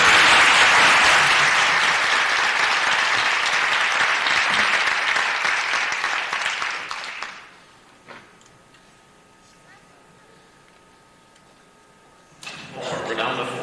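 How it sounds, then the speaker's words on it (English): An audience at a 1991 Bloomington spelling bee applauds a departing contestant, dense steady clapping that fades out, followed by quiet room ticks and a short burst of noise at the end. "we're going to excuse that person with a round of applause"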